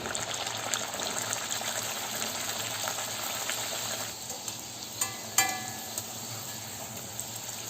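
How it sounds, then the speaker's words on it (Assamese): Soft, steady sizzling of food frying in hot oil, with occasional pops and light stirring clicks. "এতিয়া পুৰিখিনি ভাজি লওঁ"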